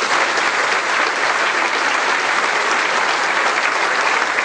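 A church congregation applauding during a French-language worship service: dense, loud, sustained clapping from a large crowd, even and unbroken throughout.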